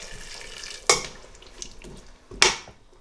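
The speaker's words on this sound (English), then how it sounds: "I'm just going to add the boiling water, and it's just enough to sort of cover them to let the potatoes soften." Boiling water poured over potatoes in a pan while cooking aloo gobhi at home: two short, sharp splashing pours with quiet moments between them.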